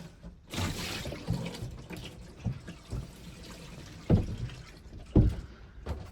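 Water is poured and splashed over the hatch of a Colvic Watson 35 boat during a leak test, giving uneven, fairly quiet sloshing with a few sharper splashes.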